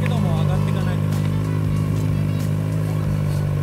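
A turbocharged Kawasaki ZX-25R motorcycle engine runs at full throttle during a top-speed attempt, a loud, steady, high droning note with people talking over it.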